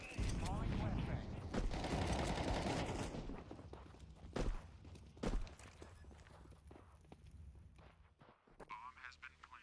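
Counter-Strike gunfire in a rapid burst of shots over the opening seconds, followed by a few louder isolated cracks and scattered game noises, with quieter stretches between.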